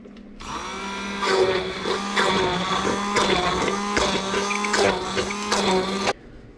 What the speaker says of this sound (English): we'll take our immersion blender and we will blend all this up